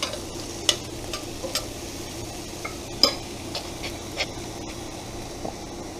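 Moqueca baiana sauce simmers and fries down in a pan, a low continuous sizzle punctuated by irregular utensil clinks and stirring scrapes against the pan, no speech.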